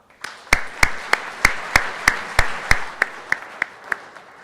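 Sharp, spaced claps from a small audience, about a dozen separate loud hits in an even slow rhythm that gradually weaken toward the end, with no talking over them.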